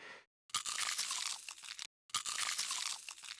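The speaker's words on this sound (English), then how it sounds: "Crunchy bite long." Crunchy bite sound effect made for zombie sound design, two long crisp crunching bursts separated by a brief silence, close and dry.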